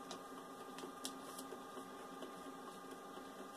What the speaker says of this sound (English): My printer likes to do a little jazz after it prints something, so ignore that.